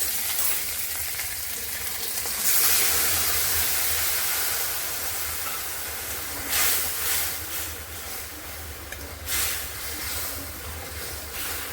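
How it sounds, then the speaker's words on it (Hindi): Masala with curry leaves sizzles and fries on a low flame, a steady crackling hiss with occasional louder bursts as it is stirred in the pan. "अब बिल्कुल लो फ्लेम पे हम मसाले को भूंज लेते हैं।"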